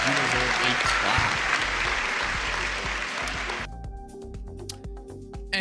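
Steady, loud applause fills the stretch, most dense at first and then thinning into scattered claps toward the end, with talk layered over it.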